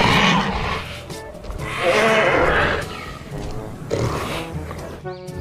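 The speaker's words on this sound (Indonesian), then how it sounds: "ternyata ini Pachypalosaurus" Pachycephalosaurus dinosaur call in Jurassic World Evolution 2: loud, bleating, whinnying cries rise and fall in several overlapping bursts, close and dominant, with a short tonal call at the end.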